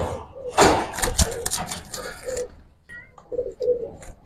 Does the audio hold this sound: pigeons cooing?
yes